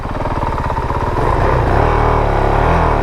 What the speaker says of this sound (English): Hear the clutch feather in.